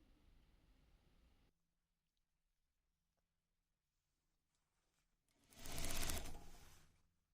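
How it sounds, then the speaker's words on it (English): Sewing machine stitching hidden pockets into a wedding dress: after near silence, a short rapid run of stitching of about a second and a half, close and fairly loud, with no talking. "So we're gonna start sewing."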